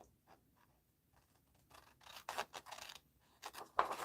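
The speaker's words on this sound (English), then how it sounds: "Let's cut this out." Scissors snip through a paper journal page, a run of close, crisp cuts and scraping strokes that grows busier toward the end, with no talk over it.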